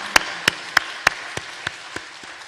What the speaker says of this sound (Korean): 우리 하나님께 감사와 영광의 박수 같이 돌리겠습니다.